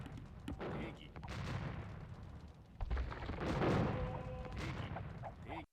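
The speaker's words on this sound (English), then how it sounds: "Lots and lots of hand cannons now for Shmolagin." Hand cannon gunfire crackles through a strategy video game battle, with dense overlapping shots and booming impacts layered into a busy, continuous clash of combat noise.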